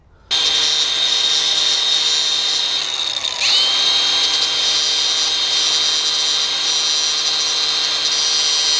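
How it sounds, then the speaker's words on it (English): A grinder works at the slightly rusty, crusty edges of metal parts on a van, a steady loud whine that starts after a brief pause and keeps up alone, dipping briefly mid-run as it bites. "I'm just going to touch the edges of these with a grinder and take the edges off them because they are a little bit crusty"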